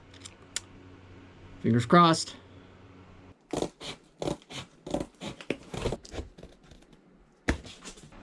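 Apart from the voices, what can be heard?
cardboard cut with scissors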